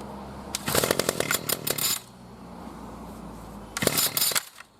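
A small 25cc two-stroke petrol strimmer engine buzzes loudly in two bursts with a quieter low idle between, rough and close by.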